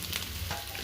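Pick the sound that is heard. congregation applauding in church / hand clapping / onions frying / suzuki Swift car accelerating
onions frying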